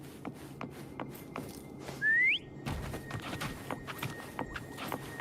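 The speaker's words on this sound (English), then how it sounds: "Try whistling." In the video game Wuthering Waves, a single short rising whistle calls Foam, standing out clearly over quiet background ambience and soft shuffling footsteps.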